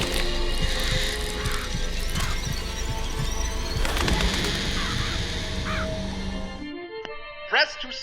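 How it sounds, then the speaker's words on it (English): Summoned crows in BioShock Infinite caw and flap in a loud, dense swirl over rumbling game sound, with voices mixed in, before it cuts to near silence and a last short flutter. "Press to summon murderous crows."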